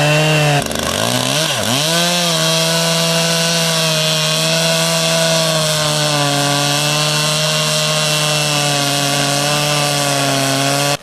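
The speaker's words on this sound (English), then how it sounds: "The craftsman uses a chainsaw to make cross-cutting grid lines, creating a network of deep relief grooves inside the timber" A chainsaw cuts deep cross-hatched grooves into a large timber log being hollowed into a dugout boat, revving up briefly then holding a loud, steady, sustained whine close by.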